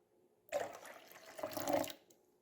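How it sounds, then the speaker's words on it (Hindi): Half a cup of lukewarm water is poured into crepe batter made with milk and sugar, a short close liquid splash in two brief bursts in a quiet kitchen. "हाफ कप नीम गर्म पानी है"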